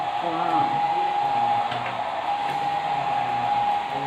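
A hair dryer blows hot air on a high heat setting, giving a steady, loud whirring hum with a strong tonal whine that runs unbroken the whole time, with no talk over it.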